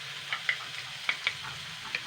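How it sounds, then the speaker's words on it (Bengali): Onion, tomato and bottle gourd sizzle gently in a pan, with a few soft stirring scrapes at irregular moments over a quiet, steady frying hiss. "জাস্ট 2-3 মিনিট একটু নাড়াচাড়া করে নেব পেঁয়াজ, টমেটো আর লাউটা"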